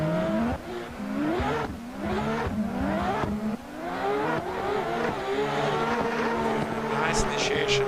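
Race cars screaming through a drift battle in a virtual drift racing game, blue and yellow cars, with engines revving up and down in rising, falling sweeps and tires squealing, loud and continuous while a commentator talks over them.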